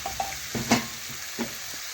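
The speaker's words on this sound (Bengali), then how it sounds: "ভালোভাবে মিশিয়ে নিচ্ছি আর নাড়াচাড়া করে একটু ভেজে নেব, টমেটোটা যাতে ভালোভাবে একটু গলে যায়" Tomato fries in a pan for a coriander chutney, a steady close sizzle broken by a few scraping stirs of a spoon against the metal.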